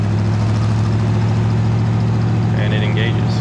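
A 1956 Ford Fairlane's engine hums at a steady low drone while the car is driven at speed as the overdrive engages, with a short burst of higher sound near the end.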